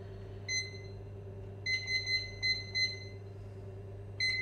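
An oven timer being set for lasagne in a home kitchen gives short electronic beeps: a single beep, then a quick run of several, then one more, over a steady low hum with no talking.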